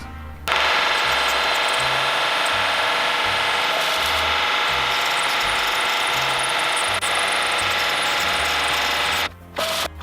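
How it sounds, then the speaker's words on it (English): A loud, continuous grinding machine whine of a mill cutting through a thin section of a cast iron flywheel runs steadily, then briefly cuts out near the end. "I'm milling my way through because it's not very thick here in this area."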